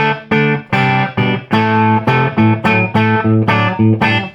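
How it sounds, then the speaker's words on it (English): A distorted electric guitar through a Masco ME-27 tube amplifier plays a run of loud, sustained chords and notes, each with a gritty, choked edge of blocking distortion as it rings out. "you can hear the blocking distortion beginning to come in more now"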